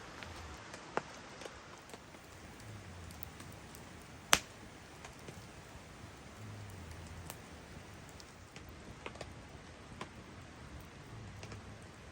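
Rain patters on a tarp strung off a Jeep at a riverside campsite at night, a soft steady hiss with a few sharp drip taps on top and a faint low rush of the river underneath.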